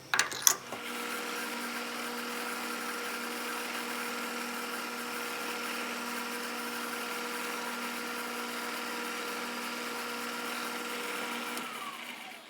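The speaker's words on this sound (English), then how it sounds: "First we're going to use a center drill and we're going to drill all pilot holes." A center drill bores pilot holes in an electrical box cover on a machine, a steady mechanical whine with a constant motor hum holding for about eleven seconds before spinning down, with a short clatter at the start.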